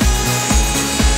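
A router with a roller-bearing bit cuts a bevel into wood, making a loud, continuous high whine. It has a rhythmic low pulse of about four passes in just over a second, and it is close up with no talk.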